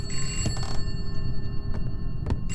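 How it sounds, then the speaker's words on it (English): A telephone rings in the horror video game Contemp, a sustained electronic bell tone with bursts of rattling clicks over a low background rumble. "Oh no, the phone."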